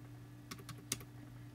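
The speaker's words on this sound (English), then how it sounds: "I'm just gonna start typing in reindeer" Keys tapped on a computer keyboard while entering text for a DIY reindeer crossing sign: a few quiet separate clicks, one sharper press near the end, over a steady low hum with no talking.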